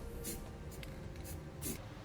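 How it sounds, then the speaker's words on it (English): Clear coat is sprayed onto bare metal in a truck wheel well in short bursts, about four quick hissing puffs over two seconds, faint and close. "we'll use some clear coat to seal up the metal to ensure that no rust or corrosion occurs"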